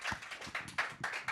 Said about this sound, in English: Round of applause for the Fender Bender.